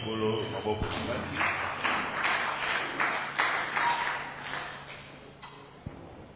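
A church congregation claps in praise of the Lord, a run of repeated applause bursts at moderate distance that fades out near the end, with a voice speaking alongside.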